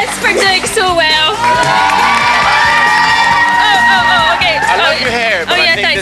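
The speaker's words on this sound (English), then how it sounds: "a massive round of applause to Chris for doing so well" Loud studio crowd on a live kids' Saturday TV show cheering and screaming for a contestant named Chris, the sustained excited shouting mixed with children's voices and whoops throughout.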